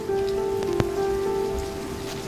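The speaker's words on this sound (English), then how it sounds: "Fluffy, try to get out of the rain, okay? It might make you sick." Rain falls on a surface in a steady, close hiss, with a sustained tonal hum and one brief sharp click partway through.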